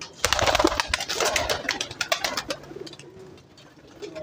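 A Ferozpuri cross pigeon coos in soft, rolling bursts close by, with some rustling and a brief flutter of movement around it.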